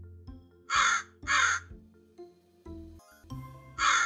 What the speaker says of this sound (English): there are two crows sitting on the branch.